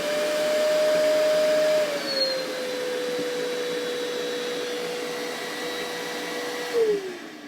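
WORX WX031.9 cordless wet/dry vacuum running steadily in eco mode, a close continuous motor whine that drops slightly in pitch partway through and holds, with a brief shift near the end; no talking.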